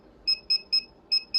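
An FMx receiver emits five short, clean electronic beeps, one per 100 kHz frequency step, in a quick uneven series with a brief pause in the middle, heard alone against faint background noise.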